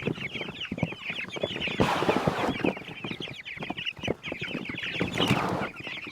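Dozens of chickens packed into plastic transport totes cluck and squawk continuously, a dense, close, busy chorus with a few louder flurries of wing flapping or rustling.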